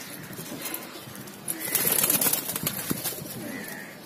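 Pigeons in a loft, kept in full-size pairs with pink beaks and pink nails, coo softly amid rustling and a few faint high chirps, with the sound rising briefly in the middle.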